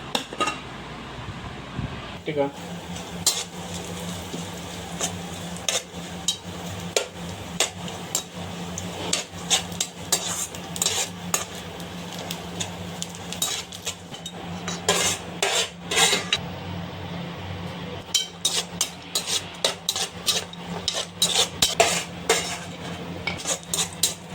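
Chana dal paste stirred and fried in ghee in a pan: repeated sharp spoon scrapes and clanks against the metal, coming in irregular bursts over a faint low sizzle, close and prominent.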